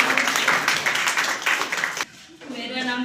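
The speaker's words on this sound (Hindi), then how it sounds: "जोरदार ताली बजना चाहिए।" A classroom of students claps for a classmate's exam marks at a coaching class, a brisk burst of dense hand clapping that drops off abruptly near the end as a voice starts.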